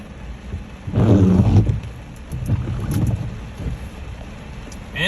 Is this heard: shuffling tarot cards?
no